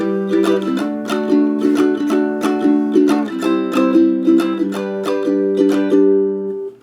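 Steady ukulele strumming of a song's verse, with bright, even chord strokes falling in a regular repeating pattern. The playing is close and fairly loud, with no voices.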